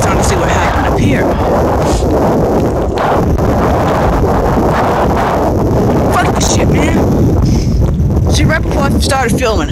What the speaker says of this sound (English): wind blowing too much.